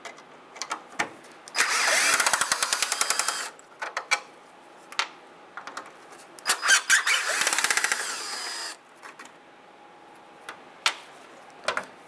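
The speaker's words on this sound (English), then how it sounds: "We're going to remove these two top Phillips screws." A power screwdriver backs out Phillips screws from the driver's-side parking light of a 1996 Ford F-150, two buzzing whirring bursts with ratcheting pulses, close, separated by clicks and handling noises.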